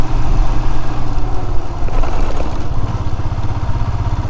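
Motorcycle engine running steadily close by on a high mountain road near Tanglang La out of Leh, a dense low rumble with a pulsing throb and clatter, loud throughout with no talk.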